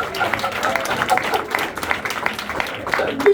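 A church congregation claps in praise during a sermon, a loose run of handclaps at moderate level, with some voices mixed in beneath the clapping.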